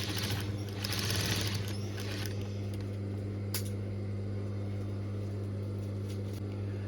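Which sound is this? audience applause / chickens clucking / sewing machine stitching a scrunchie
sewing machine stitching a scrunchie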